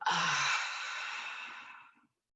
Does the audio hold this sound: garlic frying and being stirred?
no